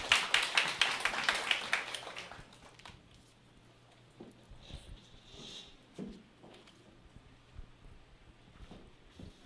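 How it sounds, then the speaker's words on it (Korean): Clapping from an audience at a sales gathering, brisk and fairly loud for about two seconds before fading, followed by quiet room noise and scattered shuffles. "우리 이선의 세일즈 마스터님 나올 때 큰 박수 부탁드리겠습니다"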